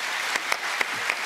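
A TV show studio audience applauding, a dense, steady burst of clapping at close range with a few sharper claps standing out, no talking.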